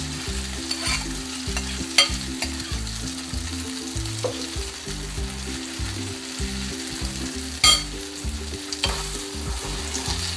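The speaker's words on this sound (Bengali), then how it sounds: "তেলটা আমার গরম হয়ে গেছে। আমি এখন এই ব্যাটারটা দিয়ে দিব" Egg roll batter hits two spoons of hot oil in a pan, keeping up a loud, continuous sizzle with occasional sharp scrapes over a low steady background hum, and no one speaks.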